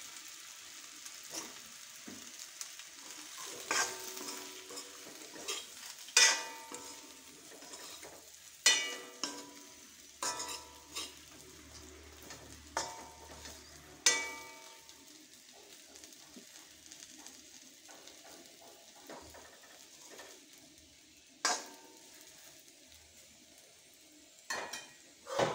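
Stuffed okra (bharli bhendi) fries in a pan with a soft, continuous sizzle, punctuated by irregular clinks and scrapes of a spoon against the pan, some sharp and close, with quieter stretches between.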